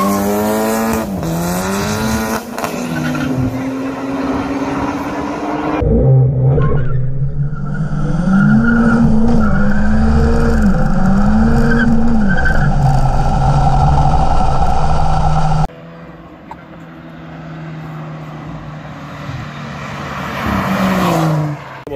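Street drag racing cars roar past loud and close, engines revving through rising gear changes with screeching tire squeal, then a quieter stretch before engines build again.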